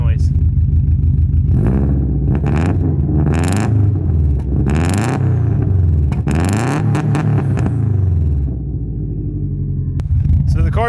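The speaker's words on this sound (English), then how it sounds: "I'll give you guys a rev, and then we'll go take it for a rip and get some real exhaust noise" A Subaru's turbo engine with a large exhaust, not running properly, idles loudly up close, then revs up and down in several rising and falling surges before settling back.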